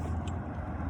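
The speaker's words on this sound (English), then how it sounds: "there's a car going by." A car drives past outside as a steady low rumble of road and engine noise, muffled and continuous through the whole moment.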